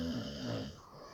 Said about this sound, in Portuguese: Olha como ronca essa criatura.